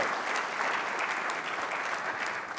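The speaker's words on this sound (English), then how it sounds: "please, a round of applause for our platinum sponsors and all of the sponsors that make this possible" Conference audience applauding its platinum and other sponsors, a loud, dense wash of many hands clapping steadily and evenly throughout.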